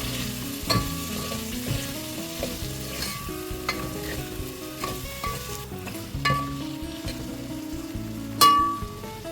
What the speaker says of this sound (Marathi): यामध्ये घालूया ह्या भाज्या। ह्या देखील आपण परतून घेऊया।